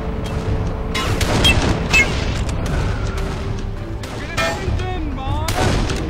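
Mortar and artillery fire in the shooter Darkest of Days, loud booming blasts and shots going off repeatedly in a chaotic battle, with occasional talk over the barrage.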